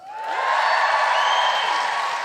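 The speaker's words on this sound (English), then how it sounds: "Give us a cheer if you do listen to the podcast." Live podcast audience in a Wellington venue cheering loudly, a sustained swell of crowd cheers and whoops with scattered clapping that holds steady for a couple of seconds.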